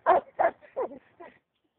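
A dog barking four times in quick succession, close and fairly loud, each bark a little weaker than the last.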